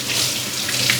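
Tap water runs steadily into a sink while fresh thyme and basil are rinsed, a close, continuous splashing hiss with no voices.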